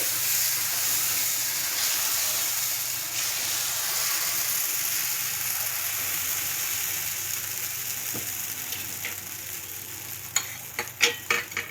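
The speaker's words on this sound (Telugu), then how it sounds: "ఇంకొక దోశ వేస్తున్నాం చూడండి" Multigrain dosa batter sizzles on a hot pan with a steady, soft hiss, and a few clattering utensil taps come near the end.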